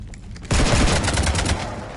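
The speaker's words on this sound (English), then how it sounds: "You want to stop shooting up my ship?" Sudden heavy gunfire rakes a ship in Mass Effect 3, a dense loud volley of rapid shots starting abruptly after a quiet moment and continuing to the end.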